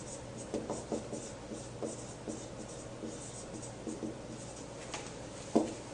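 A marker scratches and squeaks across a surface in short, quiet strokes while a mitochondria diagram is drawn, with small taps between strokes.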